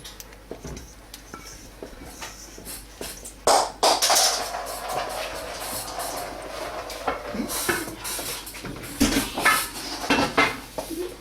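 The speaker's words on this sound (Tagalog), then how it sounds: "Haluin lang ng haluin." Thickening maja blanca mixture stirred in a pan, with irregular scraping and knocking of a utensil against the metal pan, louder bursts coming in clusters, heard close with no talking.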